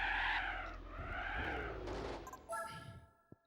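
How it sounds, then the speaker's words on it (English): A mid-engined car in Gran Turismo 4 skids and spins around, its tire squeal sweeping up and down over engine drone for a few seconds before a short thump; a voice talks over part of it. "Car just completely spun around on me."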